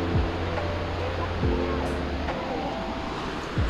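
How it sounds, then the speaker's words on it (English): Noisy waterfall in the Canadian Rockies, a steady loud roar of rushing water with a wind-like hiss, and brief voices breaking through on top. "That's one noisy waterfall."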